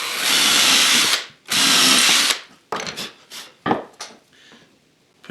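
A power drill bores a pilot hole into wood while building a box joint jig, two sustained whirring bursts followed by shorter intermittent spurts and a faint tail.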